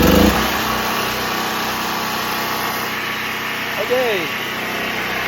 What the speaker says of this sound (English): generator's running. I'm gonna turn it off because it's so loud